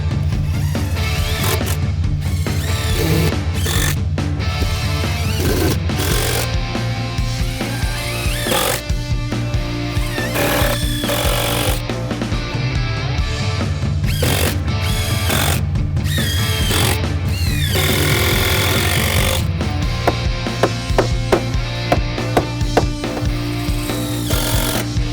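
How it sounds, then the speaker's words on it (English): A power tool drives screws into deck framing, with repeated loud bursts of whirring and rattling and short pauses between screws, continuing steadily with no talk. "Ridiculous with how many screws I'm putting in."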